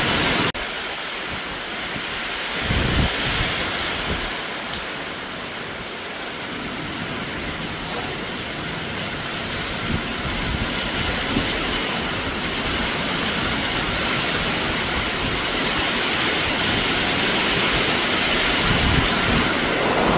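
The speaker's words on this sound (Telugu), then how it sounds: "చూడండి, ఆకాశం పగిలిపోయినట్టు, చిత్తడి పుత్తడైనట్టు ఎంత చక్కగా వర్షం పడుతుందో." Heavy morning rain pouring down steadily in Vijayawada, a loud, dense, unbroken roar with a few low rumbles that may be thunder, and no voices.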